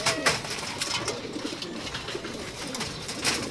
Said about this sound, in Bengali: কবুতর খাচ্ছে।